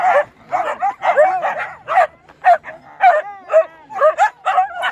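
A herd of dogs at a front gate and yard bark, yip and whimper in rapid overlapping bursts, loud and close, with no human voices.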